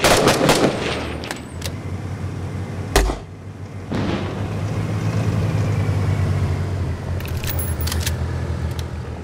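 Bursts of gunfire suppressing an area in the Six Days in Fallujah video game: sharp loud shots near the start and around the middle, with a steady mechanical rumble and clatter between them.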